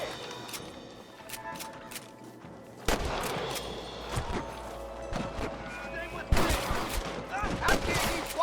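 Gunfire in a Red Dead Redemption shootout to cover a marshal, sharp cracking shots in irregular bursts, some heavy and close, mixed with clattering impacts while voices shout over the fight.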